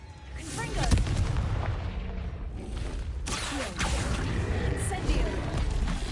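Confringo spell explosions in Hogwarts Legacy burst out as loud, rumbling booms over continuous game action, with a voice speaking between the blasts.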